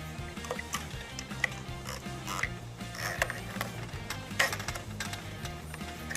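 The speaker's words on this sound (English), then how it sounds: "Now locate two of the longer ratchet straps. Insert them like so." Long ratchet straps being fitted onto a Thule Helium Pro 3 bike rack, with quick clicking ratchet and plastic mechanism sounds up close, in a fairly quiet room without talking.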